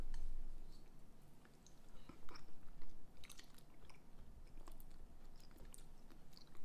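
Someone tasting bang bang chicken made with a low-temperature cooker, with soft, close chewing and biting sounds that come in irregular bursts in a quiet room.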